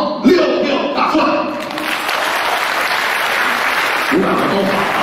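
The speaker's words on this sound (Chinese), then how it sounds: "鼓掌都好啊！" Steady applause from a live crossstalk (xiangsheng) comedy show audience at a year-end closing performance, a broad continuous wash of clapping lasting the whole stretch, with brief voice fragments at the start and near the end.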